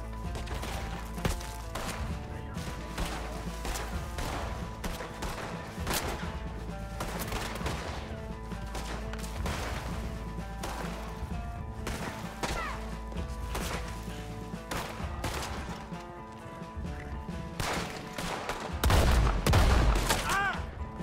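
Rapid gunfire in Red Dead Redemption 2, a dense barrage of loud, overlapping shots and sharp cracks sustained throughout, with a heavier low thump near the end.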